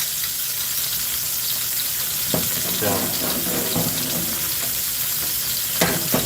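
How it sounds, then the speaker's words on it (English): A chicken pan sauce sizzles and crackles steadily in a hot pan, with occasional clinks and stirring noises and someone speaking briefly over it. "Listen to that sizzle"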